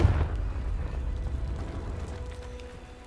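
A Confringo fire spell cast in Hogwarts Legacy bursts with a sharp blast at the start, then a rumbling, crackling decay that slowly fades over about three seconds, fairly quiet overall.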